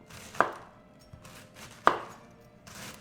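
A knife cuts through organic cabbage on a cutting board with two sharp, crisp chops about a second and a half apart. A softer tap falls between them against quiet background noise.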